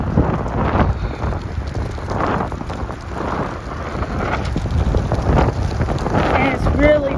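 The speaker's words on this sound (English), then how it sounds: "And it's really windy." Strong wind roars and buffets the microphone in heavy, uneven gusts, loud and rumbling throughout.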